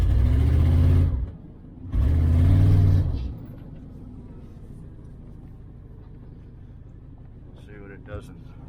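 1994 GMC Stepside pickup truck revving hard while spinning its tires, two loud, close bursts of engine roar with a brief dip between, then a low idle rumble with faint voices after.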